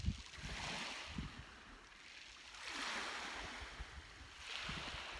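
Ocean surf rolls in slow, broad swells that rise and fade roughly every two seconds, with wind rushing across the microphone and no voices.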